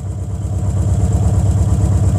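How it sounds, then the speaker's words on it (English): A Peugeot 106 race car running on carburettors idles cold after sitting a week, a steady, loud, lumpy low thrum with a fast regular pulse, close up and uninterrupted. "You can hear the carbs."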